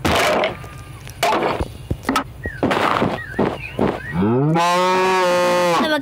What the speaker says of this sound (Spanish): Pongo la vaca zeta.